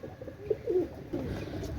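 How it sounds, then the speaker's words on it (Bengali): Top-quality flying pigeons coo close by, making soft, low, throaty rolling coos in a few short phrases against a faint background. "দেখেন বিয়ার্স টপ কোয়ালিটির কবুতর মার্শাল্লাহ"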